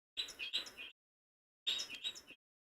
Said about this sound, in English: Birds are just chirping out here today